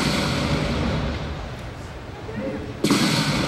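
Rapid weapon fire and explosive impacts from Banshee aircraft attacking siege tanks in StarCraft II, a continuous dense barrage of game combat sounds with a sharp louder burst near the end.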